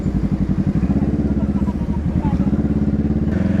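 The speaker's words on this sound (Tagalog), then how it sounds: "Pag nasanay ka kasi na maingay ang motor mo, hanap-hanapin mo talaga." A Kawasaki Z650 motorcycle with an open muffler and the catalytic converter deleted idles close by, a loud, raw, rapid throbbing exhaust pulse that stays steady throughout.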